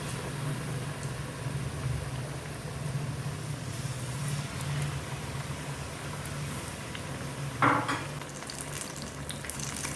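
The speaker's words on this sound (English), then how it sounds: "Let this fry in medium flame." Battered banana pieces (Kerala pazham pori) deep-frying in oil over a medium flame give a steady, dense sizzle throughout, with one brief clink near the end.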